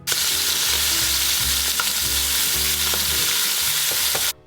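Shrimp sizzle steadily and loudly in a hot frying pan for shrimp scampi, a dense continuous crackle with faint utensil taps and no talking, cutting off abruptly at the end.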